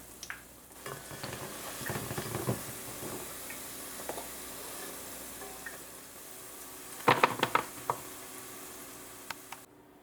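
Kurma dough strips fry in hot oil with a steady close sizzle. Scattered ticks and stirring clatters from a utensil sound through it, and a sharper cluster comes near the end.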